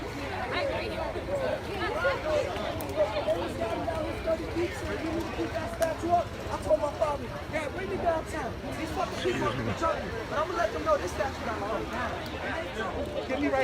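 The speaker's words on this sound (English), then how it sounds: "we're getting back into the crowd here" Outdoor crowd gathered for the removal of the Columbus statue in New Haven: steady, dense chatter and mixed voices all around, close and continuous, with occasional louder calls and footsteps.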